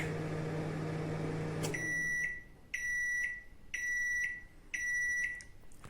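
A Samsung MG23K3515AW 23-litre grill microwave oven hums steadily, then stops and sounds four loud, evenly spaced completion beeps, each a bright high tone followed by a short pause.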